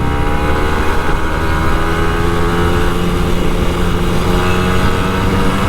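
Kawasaki Ninja RR 150 two-stroke motorcycle being ridden on a road, its engine droning loud and close at a steady, buzzy pitch with light throttle and wind rush, no voices.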